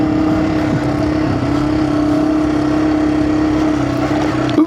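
Yamaha TW200 motorcycle with Tusk Waypoint luggage, riding an off-camber section; a loud, steady single-cylinder engine drone holds close and even for the whole stretch with no talking over it.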